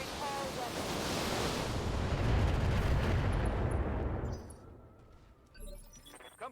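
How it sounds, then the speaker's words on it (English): Mech weapons fire together in the BattleTech video game as a long, heavy roaring barrage that builds, then fades after a few seconds, leaving a quieter tail with a late thump. "Firing all weapons."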